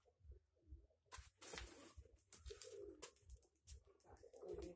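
Nikolaev pigeons cooing close by at an outdoor loft, with soft repeated coos and rustling wing and body sounds in short bursts, with no voices.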